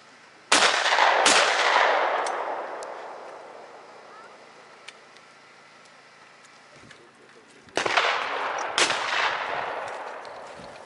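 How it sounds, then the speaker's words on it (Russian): Shotgun shots ring out during clay target shooting practice held ahead of goose hunting season: two sharp blasts, then a long quiet stretch, then two more. The reports sound moderately distant and echo outdoors. "Ребята уже стреляют."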